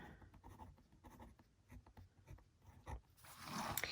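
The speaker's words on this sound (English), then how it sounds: "Let's write that down." Pen scratching on paper while writing down budget figures, a run of short, quiet strokes and taps, with louder rustling toward the end.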